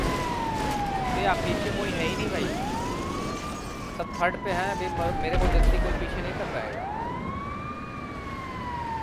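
Wailing ambulance siren in GTA 5, its long gliding sweeps rising and falling continuously through the clip, with someone talking over it and a low thump midway.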